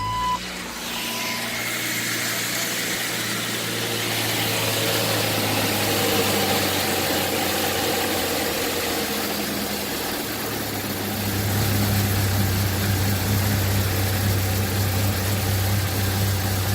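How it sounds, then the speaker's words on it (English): A 1997 Jeep Wrangler engine cranks and catches, then settles into a steady low idle that rises slightly in intensity toward the end, close by with no talking. "So I'm gonna start up the engine."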